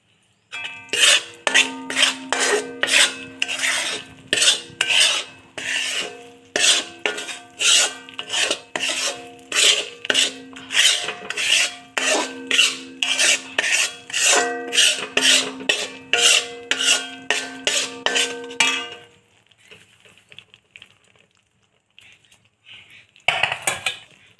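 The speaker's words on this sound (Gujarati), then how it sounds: "અને હલાવીશું. થોડું થોડું નાખવાનું લોટ." A spoon scrapes and rasps steadily through flour and ghee in a pan while sukhadi is made, with quick rhythmic strokes and metallic clinks running for about twenty seconds before a pause and a final stir.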